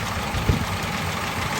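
A rebuilt 1929 Marmon Roosevelt straight-eight engine idles nearby with a steady, even low rumble and one brief thump partway through.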